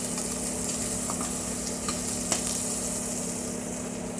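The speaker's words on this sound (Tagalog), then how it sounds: "igigisa natin yan sa bawang muna" Garlic fries in a pan for monggo soup, a soft, steady sizzle close by with a faint tick or stir partway through and no talking.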